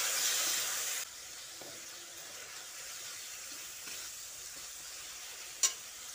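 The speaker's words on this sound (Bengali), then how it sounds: "এবার সামান্য একটু জল দিয়ে মশলাটাকে খুব ভালো করে কষিয়ে নিচ্ছি" Spice paste with a little water being sautéed and stirred for a ridge gourd dish, a bright hiss of steam at first that drops to a quieter steady sizzle, with one sharp clink near the end and no talking.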